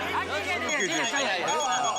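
A phone rings with a repeating electronic tone during a festive meal, partly buried under lively chatter from several people nearby.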